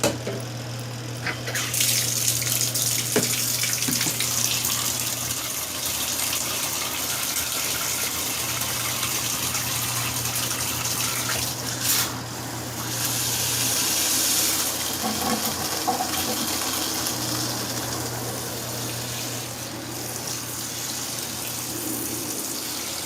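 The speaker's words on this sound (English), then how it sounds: "So then you could just throw some more water in there." Water gushes steadily into a portable mini twin-tub washing machine for about twenty seconds, close and continuous over a low, steady hum.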